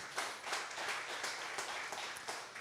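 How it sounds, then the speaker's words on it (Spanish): A church congregation applauds together during a Spanish-language worship service, a steady wash of many hands clapping that holds evenly for a few seconds at a moderate, slightly distant level. "denle un aplauso al Rey de Reyes y Señor de Señores"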